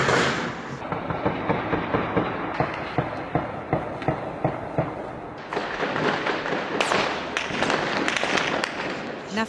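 Gunfire crackles in rapid, repeated bursts in the Rocinha favela, Rio de Janeiro, sharp reports following one another over a dense, rumbling background.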